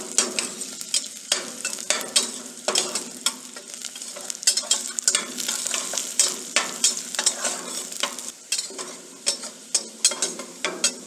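Mirepoix of vegetables for tomato sauce frying in a pan, a constant close sizzle with rhythmic spoon scrapes every second or so, loud and steady, no talking.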